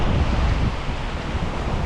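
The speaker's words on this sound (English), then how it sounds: "Look at these waves are getting pretty gnarly out here." Ocean waves surging against the rocky coast at Half Moon Bay, California, a loud broadband wash mixed with heavy wind buffeting on the microphone, continuous and close, with no talking.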